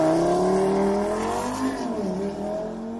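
A turbocharged inline five-cylinder in an Audi RS3 pulls hard under acceleration, its warbling engine note rising and falling steadily and close by, with no talk over it.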